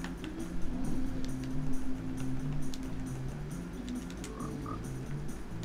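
Frogs croak in a swamp in Minecraft 1.19 (Switch/Bedrock), with repeated low, warbling calls continuing steadily over faint background game sounds.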